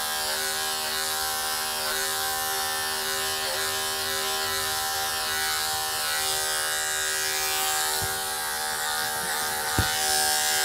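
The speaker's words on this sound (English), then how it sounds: "Lift the ear up and then the clipper down the side of the cheeks." An electric clipper buzzes steadily as it grooms a Labradoodle puppy's cheeks, a continuous close hum with a couple of small clicks near the end.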